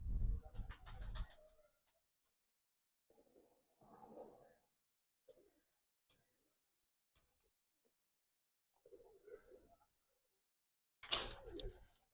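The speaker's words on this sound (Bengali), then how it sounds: "প্লেয়ার দেখেন কবুতর ভয় পাচ্ছে" Pigeons coo softly in a quiet space, with a few short, faint murmuring calls spread out and louder bursts of fluttering or handling noise at the start and end.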